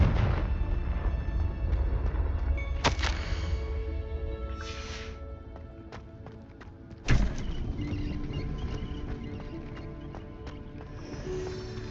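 A Confringo blasting spell goes off in the video game Hogwarts Legacy, giving sharp bursts and booms over a dense, continuous bed of game music and ambience, with a strong blast near the middle and another earlier.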